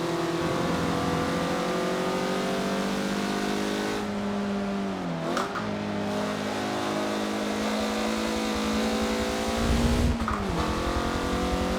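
A 2013 Mazda MX-5 Cup race car at the Nordschleife in Forza Motorsport 7 revs hard and steadily, dipping twice with quick gear-change blips before climbing again, loud and continuous with no talk.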